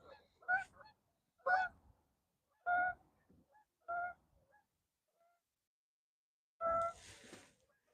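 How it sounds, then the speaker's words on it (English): Geese by a river at night honk in separate loud, nasal calls, about six of them spaced a second or more apart with quiet gaps between, the last followed by a brief hiss. "Hush it, geese, hush it."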